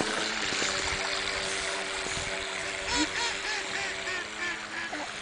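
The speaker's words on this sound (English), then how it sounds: "It sounded like the duck's laughing at us." Ducks quacking on a lake near a moving speedboat, several short quacks over steady engine and water noise, with a few faint voices in the background.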